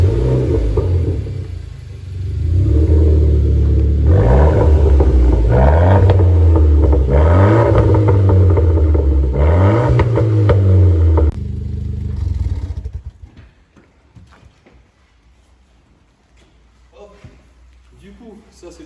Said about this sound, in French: ça c'était pour le petit bruit de la voiture